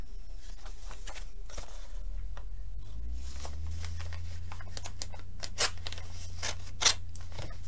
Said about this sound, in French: Le coupe-papier.